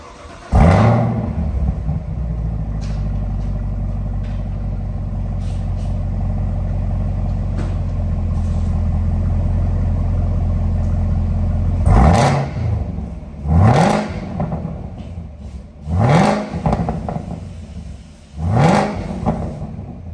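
A 2020 Camaro ZL1 V8 with an AWE Track exhaust and valves starts with a bark, settles into a deep rumbling idle, then is blipped through several sharp rising revs, loud and close.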